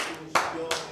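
A church congregation claps during a Spanish-English worship service: two sharp, close handclaps land a moment apart over a soft murmur of voices.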